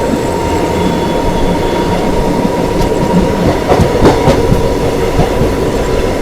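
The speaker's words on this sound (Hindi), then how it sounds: "वो सामने आ चुकी है भाई पूर्वा एक्सप्रेस, ताबड़तोड़ रफ्तार में आ चुकी है भाई।" The Poorva Express rushes past at high speed with a loud, continuous roar of wheels on rails and rhythmic clacking of bogies over joints, heard from a parallel moving train.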